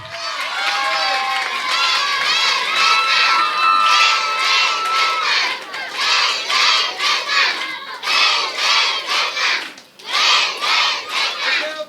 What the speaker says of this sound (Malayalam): അവരെ കൈയടിച്ച് വെൽക്കം ചെയ്താട്ടെ